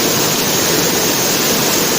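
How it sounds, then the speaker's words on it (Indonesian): The Batang Taye waterfall in Sijunjung, West Sumatra roars as a loud, steady, unbroken rush of falling water with no other sounds. "wisata air terjun Batang Taye ini"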